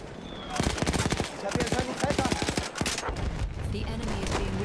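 Rapid bursts of gunfire from a player's weapons in the World War I shooter Battlefield 1, loud and close, with dense repeated shots in quick clusters followed by a steady roar of battle.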